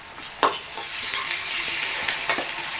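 Chili stirred and frying in a pan: a steady bright sizzle with a few scraping stirs and light utensil knocks, and no voices.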